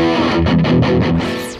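Electric guitar played through a Marshall Origin 50-watt amplifier with heavy distortion, a short burst of saturated strummed chords with a ringing tail fading out.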